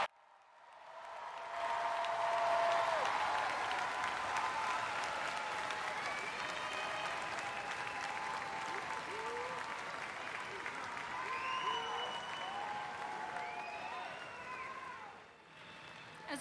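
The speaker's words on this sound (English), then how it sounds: "Everyone, let's give Kennesaw State University's newest alumni one more round of applause." A large commencement crowd at Kennesaw State University applauds its new graduates, steady, fairly distant clapping that swells in after a quiet start and holds, with faint cheers and voices mixed in.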